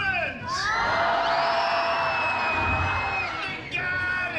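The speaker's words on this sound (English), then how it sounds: "The proper response is to throw your hands up in the air and to scream like this." An audience at the Monsters Inc. Laugh Floor comedy show in Magic Kingdom screams and cheers together, a loud, sustained roar of whoops and yells lasting several seconds.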